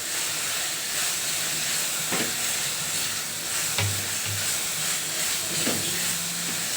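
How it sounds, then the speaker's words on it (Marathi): Garam masala, coriander powder and chilli powder sauté in a pan for a soybean curry, making a dense, steady hiss with a few faint stirring knocks and a low hum, with no voices. "मसाला छान परतून घ्यायचा"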